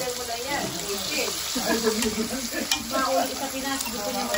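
Chicken wings deep frying in oil, a dense, constant bubbling sizzle close up, with someone talking over it.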